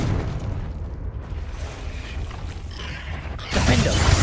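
A Confringo spell blast in Hogwarts Legacy, a low rumbling boom that swells into a loud, crackling burst near the end, close and forceful.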